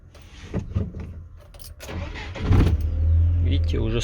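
A GAZelle Next van engine cranks and catches, then settles into a steady running idle up close, after a recent engine installation; someone speaks briefly over the mechanical noise.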